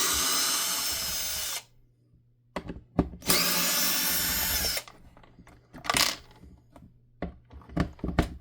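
A cordless power drill whirs in loud bursts while backing screws out, with long high-pitched runs, short blips, pauses and small clatters of parts between them.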